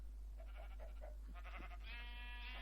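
Minecraft sheep bleating in a series of short, buzzy, harmonic calls, repeated several times and ending in a longer, brighter bleat, over a steady low hum with no talking.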